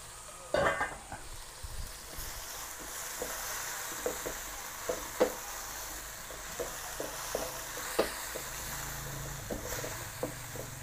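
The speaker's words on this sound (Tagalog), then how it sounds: "Igisa lang po natin yung dulong sa kamatis, sibuyas, bawang." Silverfish sautéed with tomato, onion and garlic in a pan give off a soft, steady sizzle, with occasional light scraping clicks of a utensil stirring at an uneven pace.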